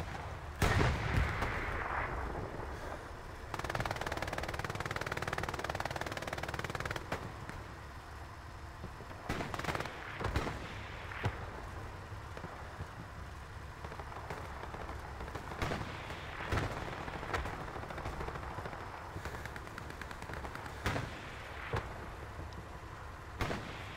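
Gunfire in the video game Hell Let Loose: loud cracks and heavy blasts come in irregular bursts, with rumbling distant fire between them.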